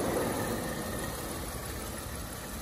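A 2004 Ford Mondeo with a 2.5 engine idles smoothly and steadily close by, a continuous low rumble with no voices over it.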